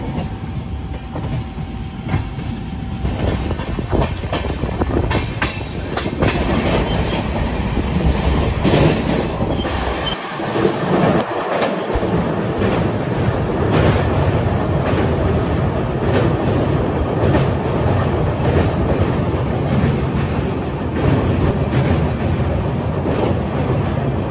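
Howrah–Barbil Jan Shatabdi Express running, a loud continuous rumble of wheels and clatter on the rails with steady clickety-clack, a brief dip in the low rumble midway, no voices.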